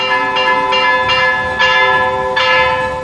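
A temple bell rings with a handful of struck peals spaced under a second apart, each hit adding a bright attack over a long, humming sustained tone that stays loud and close throughout.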